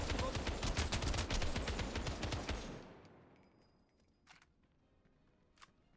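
Rapid burst of gunfire from the video game Final Fantasy VII First Soldier, loud and dense for a few seconds, then cutting off into quiet with two faint sharp clicks afterward.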